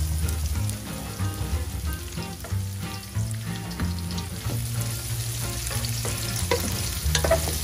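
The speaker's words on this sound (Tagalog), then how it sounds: "Igisa na po natin ang bawang, sibuyas" Garlic and onion sautéing for laing, a steady close sizzle with repeated stirring scrapes and clatters against the pan, loud throughout with no voices.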